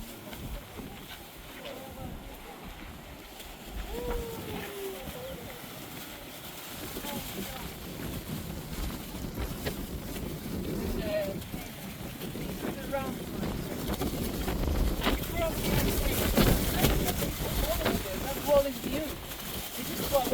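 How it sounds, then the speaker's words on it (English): Strong wind buffets the microphone at the Ollantaytambo ruins in Peru, a steady low rumble that builds over the stretch, with people talking underneath. "It's very windy over there"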